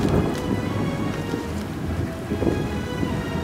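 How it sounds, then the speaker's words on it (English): Steady heavy rain falls on a coastal wilderness during a survival trip, making a dense, constant hiss with low rumbles that may be distant thunder or wind. "It wasn't a mist anymore, it was a steady rain."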